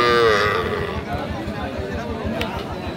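A young two-tooth dairy cow lets out a long low moo near the start at a cattle market, with people chattering in the background throughout.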